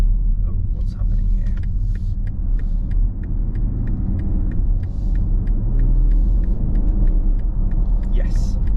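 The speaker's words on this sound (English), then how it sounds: "driving 40 miles per hour on this rough surface gives us a little bit of road noise" Steady low rumble of tires on a rough road from inside a 2022 BMW X5 40d M Sport xDrive SUV moving at 40 mph, with faint regular ticking above the drone.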